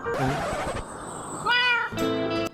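Short cat meows from a Minecraft cat, several brief tonal calls close up over game sounds and background music.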